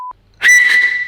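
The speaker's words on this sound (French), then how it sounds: "allons maintenant devoir siffler le plus fort possible." A loud, sustained whistle, one steady high tone held strongly for most of a second after a brief faint beep.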